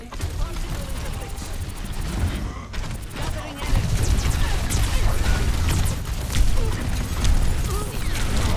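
Zarya's grenade-like projectiles arc and burst in Overwatch, a dense rumble of blasts and crashes over busy game noise, with a short dip near three seconds before the loud fighting resumes.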